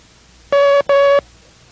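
Morse code letter M sounded as two long beeps of a steady electronic tone, separated by a short gap and standing out cleanly over a quiet background.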